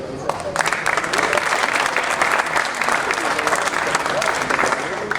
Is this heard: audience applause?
yes